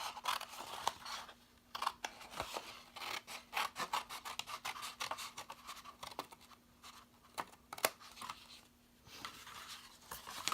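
Scissors cut through paper to trim a gift bag template down to its score line, a quick run of crisp snipping and rasping strokes, close and steady, with no voices.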